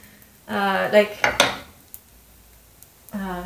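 A sweet Korean hotteok pancake is flipped in a pan, with a couple of metal clinks and scrapes of the turner against the pan, briefly overlapped by voice sounds.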